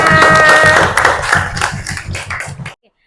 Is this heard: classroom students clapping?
yes